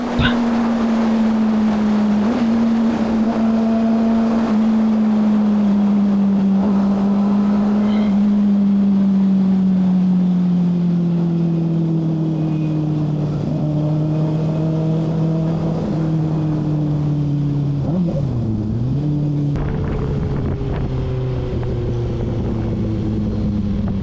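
A Kawasaki Ninja ZX-6R motorcycle with an Austin Racing exhaust drones steadily while riding, its engine pitch rising and falling through gear changes under constant loud wind rush, with a brief dip and recovery near the end.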